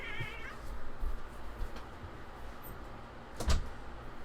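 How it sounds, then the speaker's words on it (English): Two house cats fighting indoors: a wavering yowl opens the scuffle, followed by low rustling and a sharp knock or thump near the end, fairly quiet and with no talking. "One of my cats was fighting with one of my other cats."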